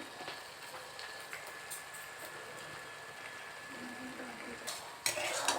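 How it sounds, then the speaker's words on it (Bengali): Prawn and pumpkin ghonto gets a light stir in a pan after garam masala is added, soft scraping and faint sizzle at low level, ending in a louder burst of spatula clatter and hiss. "গরম মশলা দিয়ে একটু নাড়াচাড়া করে নেবেন"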